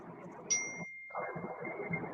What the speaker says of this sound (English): That bell was perfect timing, man.